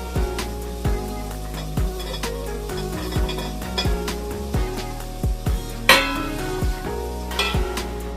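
Snake gourd stirred in a hot pan, frying with a steady close sizzle while a utensil scrapes and taps the pan in regular strokes, with one sharper clatter partway through.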